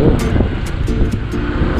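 Strong wind roars steadily across the microphone, a dense broadband rush with a few brief higher gusts.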